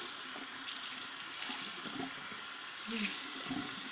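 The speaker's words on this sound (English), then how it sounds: "when I run them under really hot water for a little bit" Hot water runs from a tap in a steady broadband rush, close and moderately loud, with small clatters and shifts as objects are held under the stream; no one speaks.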